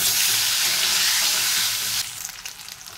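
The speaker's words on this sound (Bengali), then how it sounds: "এই তেলে ভেজে নেব আলু।" Potatoes fry in hot oil, a loud, close, dense sizzle that holds steady for two seconds, then suddenly drops to a quieter, uneven crackle.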